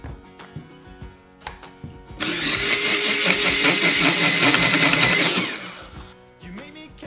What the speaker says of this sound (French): nos carottes sont râpées en 2 minutes